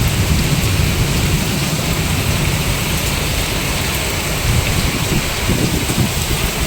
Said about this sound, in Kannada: ಸಿಡಿಲು ಸಹಿತ ಭರ್ಜರಿ ಮಳೆ ಆಗ್ತಾ ಇರುವಂಥ ದೃಶ್ಯ ಇದು